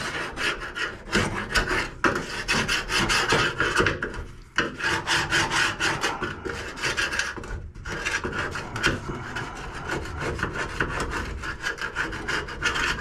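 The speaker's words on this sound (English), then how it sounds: "just to break this thicker grease up that's on here." Thick grease is scraped and scrubbed off the hood jamb of a 1970 Buick Wildcat in rapid, rasping back-and-forth strokes, close and loud, with two brief pauses.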